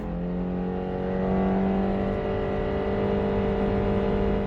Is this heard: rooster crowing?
no